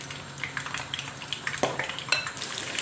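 Chicken pieces fry in hot oil for a Manchurian dish, a steady close sizzle with light clinks of a utensil against the pan.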